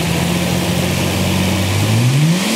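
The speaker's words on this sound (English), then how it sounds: "One more rev." A car engine revs with a steady rising pitch that climbs near the end, loud and close with no talk over it.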